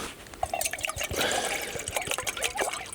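Water is poured at a wild campsite to fill a pot for coffee, a steady close splashing trickle with small drips and clinks running for a few seconds.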